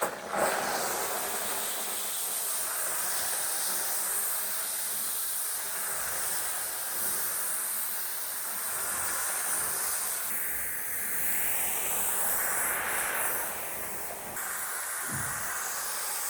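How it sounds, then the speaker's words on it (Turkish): A Fakir Max Steam steam cleaner runs on its highest steam setting over a carpet, giving a loud, continuous hiss that shifts slightly as the head moves and carries on unbroken with no talk. "Benim şu an buhar ayarım en yüksekte çünkü halıma zarar vermiyor yüksek buhar ve başlıyorum."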